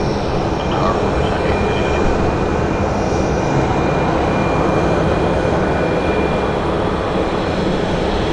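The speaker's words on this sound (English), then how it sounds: "here's our ABX 767 that I told you that landed on the north." An ABX Boeing 767 at Phoenix Sky Harbor produces a loud, constant wash of engine roar that stays even from start to finish without any break.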